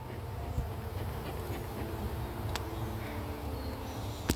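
Honey bees buzz around an open beehive during hive splitting, a steady low droning hum of many insects throughout, with a couple of brief sharp clicks.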